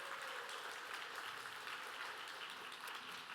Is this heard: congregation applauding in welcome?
yes